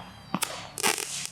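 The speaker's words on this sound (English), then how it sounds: "And firework flowers." Consumer fireworks from Pennsylvania set off outdoors, a few quick crackling pops followed by a brief sizzling burst of crackle, close and fairly sharp within about a second.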